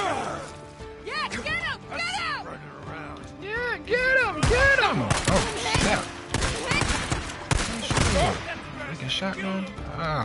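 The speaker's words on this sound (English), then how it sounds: "Shotgun." Shotgun blasts in the post-apocalyptic game Days Gone, several loud booming shots in an irregular burst amid chaotic combat noise, with a voice talking over the action.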